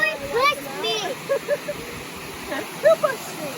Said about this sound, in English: Several waterfalls that are back down in there.